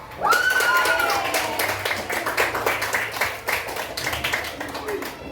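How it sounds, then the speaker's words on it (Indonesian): A school class claps hands together in a classroom, a quick burst of many hands at fairly close range with sharp rhythmic slaps, while a voice speaks briefly over the start. "Kita tepuk tangan dulu."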